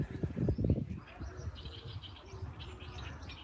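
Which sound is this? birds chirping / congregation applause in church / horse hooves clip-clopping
birds chirping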